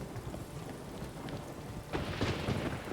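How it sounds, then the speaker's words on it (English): A thunderstorm in The Witcher 3: Blood and Wine brings steady rain hiss, then a rolling thunder rumble swells near the end and builds into louder, surging rainfall, with no voices. "A storm, damn it."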